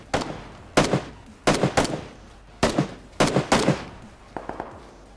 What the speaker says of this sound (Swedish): Skott österut.